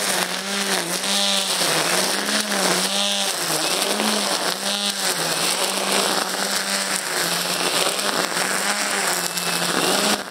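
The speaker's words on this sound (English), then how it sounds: "I'm just going to go at it and trim as much grass as fast as I can" An EGO 56V battery string trimmer cuts grass at full speed, its high motor whine rising and dipping steadily as the line strikes the growth, loud and close without pause throughout.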